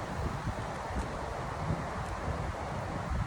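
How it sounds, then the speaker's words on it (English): Outdoor wind blows steadily with gusty rumble and broadband rushing noise buffeting the microphone throughout, loud and continuous with no voices. "The wind is picking up"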